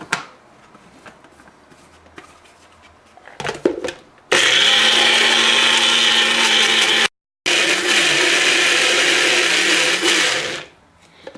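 Blender whirring loudly as it grinds cashews into cocoa-cashew butter, running in two long sustained bursts split by a brief pause, after quieter handling noises at the start.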